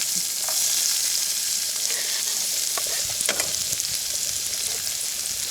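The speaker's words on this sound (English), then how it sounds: "we're only using one pan for cooking the sauce and frying the meatballs" Steady, loud sizzling of meatballs frying in a pan fills the whole stretch, with occasional scrapes and clinks of stirring over the hiss.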